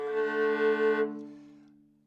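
Viola sounding a double-stop fifth with one string slightly out of tune, played in a relaxed left-hand position: a single sustained bowed chord, close and clear, its upper tones dropping away after a second while the lower string rings on and fades.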